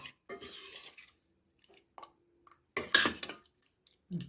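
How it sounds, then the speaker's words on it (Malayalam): A bowl of batter with a little salt being stirred by hand: a few short bursts of scraping and clinking against the bowl, separated by quiet pauses, close and moderately loud. "അല്പം ഉപ്പും ചേർത്താണ് നമ്മൾ ഇളക്കട്ടെ"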